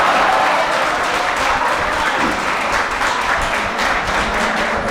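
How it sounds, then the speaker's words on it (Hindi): An audience at a Hindi poetry recital claps steadily, a dense, loud, even wash of applause that continues for several seconds without a break. "अब ताली ना बजाइए"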